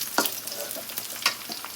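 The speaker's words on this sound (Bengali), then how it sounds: "পেঁয়াজটা একটু ভাজা ভাজা হোক" Sliced onion and bay leaf fry in oil in a pan for khichuri, a steady close sizzle broken by a few scraping stirs.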